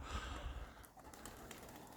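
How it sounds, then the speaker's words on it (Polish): Soft, low cooing of homing pigeons under a steady outdoor hiss, quiet and a little distant. "Kurde, to są gołębie."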